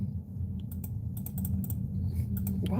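Rapid typing on a computer keyboard at a desk, a steady patter of sharp key clicks over a constant low hum, with no talking.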